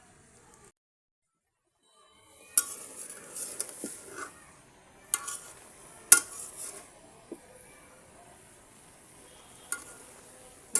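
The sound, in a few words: stirring red amaranth greens frying in a pan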